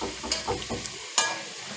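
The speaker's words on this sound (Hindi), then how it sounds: "जब इनके अंदर थोड़ा सा ब्राउन सा कलर आ जाएगा तब तक हम इसको फ्राई कर लेते हैं।" Bitter gourds (karela) frying in a pan for qeema karela, with a few short scraping stirs and light crackling sizzle, fairly quiet and close, no talking.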